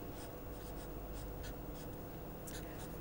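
Faint scratching strokes of writing on a board during a physics lecture on Maxwell's equations, coming in short irregular bursts over a steady background hiss.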